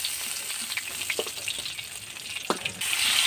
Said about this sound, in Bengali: আপনারা যখন মাছ ভাজবেন মাছের মাথাটাই আগে ভেজে নেবেন